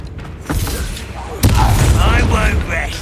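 A Confringo fire-blast spell erupts in Hogwarts Legacy with a sudden heavy boom and rumbling tail, preceded by a softer impact, while a game character's voice sounds over the clash.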